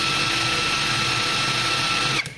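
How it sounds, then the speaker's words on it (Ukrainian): A Grosser cordless impact wrench runs briefly in loosening mode with no load, giving a steady, close, high-pitched whirring motor tone for about two seconds before it stops abruptly. "я натискаю на кнопку і гайковерт трішки відкручує"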